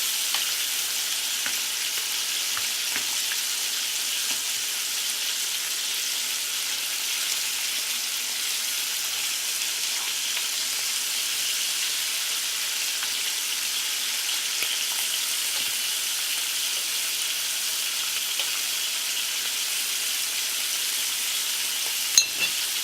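Bacon strips sizzle steadily in a pan, a constant bright crackling hiss with scattered pops that holds at an even level for the whole stretch, with no talking.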